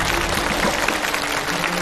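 A studio audience at a televised stunt-challenge show applauds a challenger and his instructor heading to the challenge area: dense, steady clapping that fills the room evenly for the whole stretch, with no talking.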